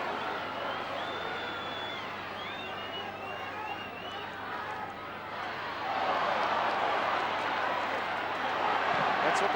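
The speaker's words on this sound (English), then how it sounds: "That's what the crowd are roaring about." A football crowd at the 1986 TFL Grand Final between Glenorchy and Sandy Bay keeps up a steady roar that swells louder toward the end, while a commentator talks over it.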